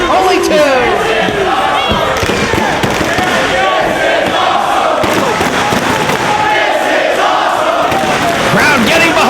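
A wrestling crowd at a tag-team warfare match roars and cheers loudly and continuously, a dense wall of voices with shouts and chanting rising and falling throughout.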